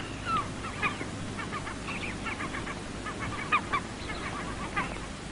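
A nesting eider duck on a small Norwegian island calls in soft, repeated short notes beside an old stone tomb, faint against a steady outdoor hiss.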